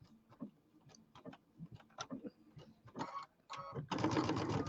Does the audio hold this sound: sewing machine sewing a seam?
yes